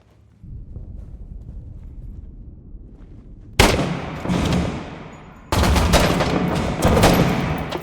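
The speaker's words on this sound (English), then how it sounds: "3 fucking clean shots, dude." Loud gunfire in a shooter video game, with two sharp bursts of rapid shots ringing out close, set against a low ambient rumble.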